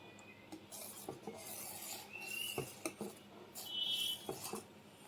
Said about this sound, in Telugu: ఇలా మీడియం ఫ్లేమ్లో పెట్టి ఓట్స్ అంతా బాగా కుక్ అయ్యేంత వరకు ఇలా మిక్స్ చేస్తూ ఉండాలండి